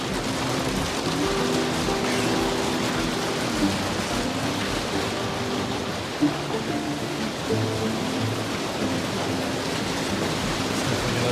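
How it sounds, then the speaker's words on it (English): The first rain falls on a desert A-frame cabin, a steady even patter and hiss that stays constant throughout with no talking. "First rain."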